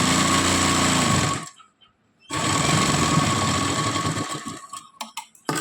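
A sewing machine stitches a petticoat, running loud and steady up close, pausing briefly, then starting up again and stuttering near the end.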